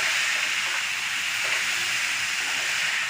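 Grated carrot and sugar cooking in a pan on high flame for carrot laddu, a steady loud hiss and sizzle throughout, close and continuous, with no talk.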